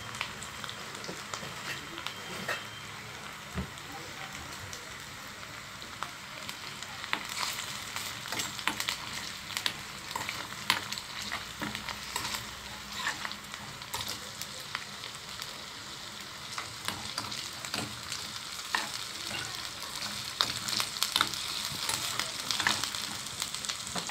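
Steady crackling sizzle of tempering spices and green chillies frying in hot oil in a pan, continuous and close, with occasional sharper pops and no talking.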